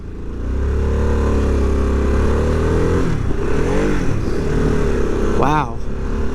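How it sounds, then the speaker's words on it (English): A 2022 Harley-Davidson Sportster S accelerates hard on a demo track, its engine a loud, close, steady roar that climbs through the revs. A brief whooshing sweep cuts in near the end, and the rider's voice comes through in places. "Oh man, this bike is quick."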